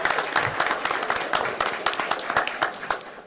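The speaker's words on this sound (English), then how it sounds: "Everybody give him a big round of applause." Steady applause from an audience at a school board meeting, many hands clapping in a dense, continuous patter at moderate volume.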